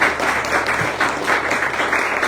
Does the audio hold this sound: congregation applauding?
yes